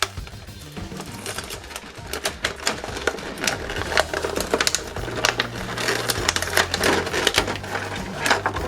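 Plastic packaging from a metal transforming robot toy being opened, giving dense crinkling, crackling and tapping that comes in irregular bursts and is heard up close with no voices.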